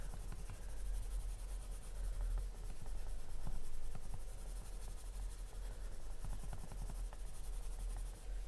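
Coloured pencil rubbing on paper while a picture is coloured in, a soft continuous scratchy rasp with gentle back-and-forth swells, close and quiet with no talking.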